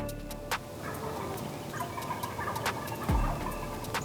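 Several wild turkeys gobble in short, sharp bursts from a moderate distance, scattered over a quiet outdoor background with faint birdsong.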